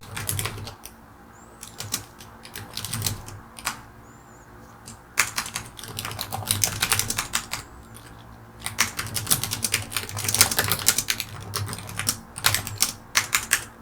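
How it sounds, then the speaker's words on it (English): Fingernails clicking across a computer keyboard in quiet bursts of typing, fast light taps with short pauses between runs. "Does this typing sound good at all?"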